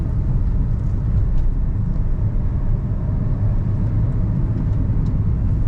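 A Toyota Aqua driving on the highway from Gwadar to Karachi, its steady low road and engine rumble filling the cabin continuously and evenly, with no voices over it.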